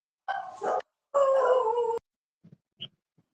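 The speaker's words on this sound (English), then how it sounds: "Those are my dogs." Several dogs bark and howl nearby in two drawn-out, wavering howls, followed by a few faint, short yips.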